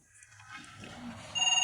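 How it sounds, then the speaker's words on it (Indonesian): A telephone rings in an office, quiet at first and then bursting into a loud, steady repeating electronic ring near the end, with no talk over it. "aku mau angkat telepon dulu"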